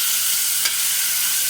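Beetroot sautéing in a pan gives a steady, loud broadband sizzle with no pauses, broken by one brief stir or scrape near the middle. No voices are present.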